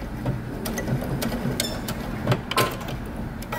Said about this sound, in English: Back stitch. back stitch at the end.